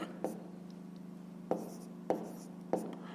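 Pen strokes of a handwritten fifth-grade math solution on paper, a few short scratchy bursts over a steady low room hum, close and fairly quiet.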